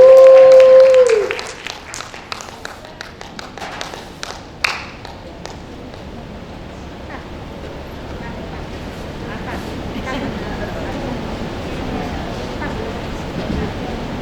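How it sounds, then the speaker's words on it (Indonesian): A church congregation at an online worship service applauds and cheers for two dancers. A loud burst opens, then scattered claps give way to a steady, diffuse crowd roar that swells toward the end. "Kita mau berikan lagi sorak-sorai yang dahsyat"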